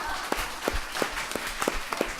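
An audience claps and applauds at a Buddhist monk's live question-and-answer talk show, dense steady clapping with sharper individual claps, lasting a couple of seconds.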